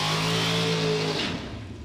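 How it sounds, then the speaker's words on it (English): A Super Pro drag racing car roars loudly through a short burnout at a European drag strip, the engine howl holding steady before dropping away and fading. "So shorter burnout for Mick"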